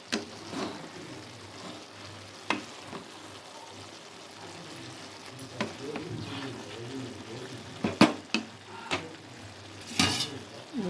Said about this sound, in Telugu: ఒకసారి కలుపుకుందాం.